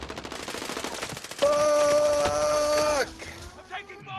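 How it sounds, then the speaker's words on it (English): Rapid machine-gun fire in a video game rattles in a fast stream of shots, with a brief tonal alarm-like burst in the middle and voices speaking over the action. "I'm taking fire! Save me, save me!"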